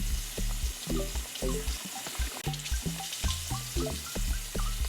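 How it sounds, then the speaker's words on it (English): Water splashing as a face is washed at a bathroom sink, with repeated close scooping splashes and running water over several seconds and no talking. "So unfortunately I have to wash my face in the sink"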